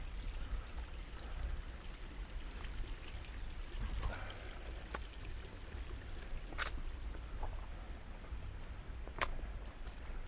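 A small stream of water runs beside a hiking trail on the Appalachian Trail, a faint, steady rushing trickle close by with a few light clicks and knocks on top.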